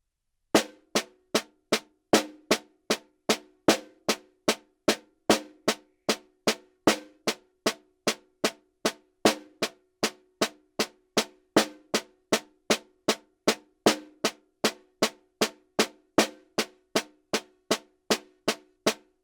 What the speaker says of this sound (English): We're going to play 4 single paradiddles, 4 double paradiddles, 4 triple paradiddles, and 4 paradiddle diddles